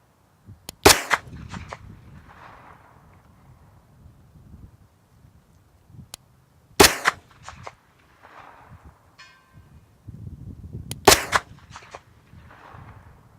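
Three sharp 9mm pistol shots fired outdoors at a target, spaced several seconds apart, each a loud crack with a short echo, with wind noise and shuffling between.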